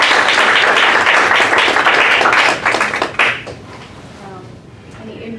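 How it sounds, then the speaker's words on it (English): Round of audience applause at an academic scholarship showcase, loud dense clapping for about three seconds, then thinning out and fading into quieter room noise with some murmured voices. "let's just give another round of applause."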